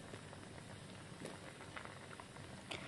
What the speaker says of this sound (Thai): ก็จะตั้งแกงไปแบบนี้ค่ะจนน้ำแกงเดือดจัดๆ